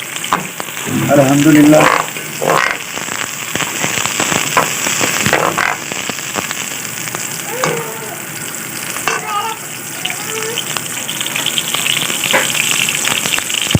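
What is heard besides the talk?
onions frying in hot oil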